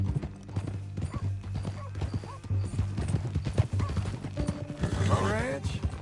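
Horse hooves clip-clop in Red Dead Redemption 2, a brisk irregular run of close hoofbeats joined by a horse's whinny near the end.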